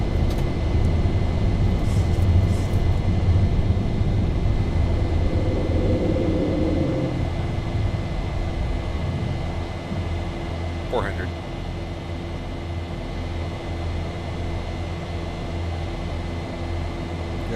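Simulated Boeing 737-800 jet engines in X-Plane 11 roar steadily through a takeoff from a 6,000-foot-elevation airport, a continuous loud rumble with a brief rising whine near the end.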